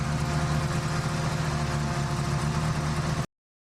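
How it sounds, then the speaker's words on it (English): Garage Fukui engine fitted with a Truss T67 25G turbo and custom inlet manifold, running at a steady idle, a constant loud hum with a low throb that cuts off abruptly. "This engine uses a Truss T67 25G turbo, with many other special features like the custom inlet manifold and infinity throttle"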